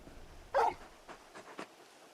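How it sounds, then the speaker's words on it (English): Torgal, the large dog from the video game Final Fantasy XVI, gives a short sharp bark followed by a few soft whimpers and yips, close and fairly quiet. "You're just a big puppy, aren't you? A very big puppy."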